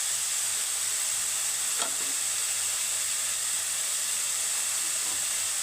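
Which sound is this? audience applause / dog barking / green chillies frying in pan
green chillies frying in pan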